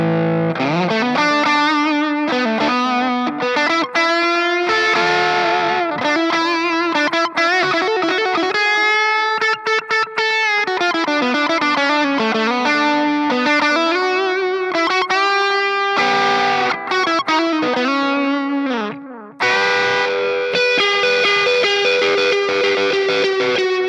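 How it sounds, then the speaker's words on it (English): A high-gain electric guitar played through a UAD Chandler GAV19T amp plugin, with an overdrive pedal in front, rings out with thick, saturated chords and sustained distorted notes in a continuous, loud passage. "Very sort of high gain, sort of Selmer-y sort of tones with something like"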